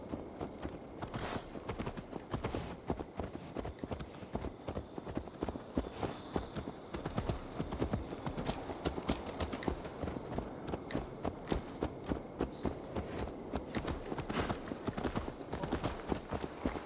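Horse hooves clip-clop steadily over the ground in Assassin's Creed Valhalla, a dense, even stream of close hoofbeats that runs the whole time over faint game ambience.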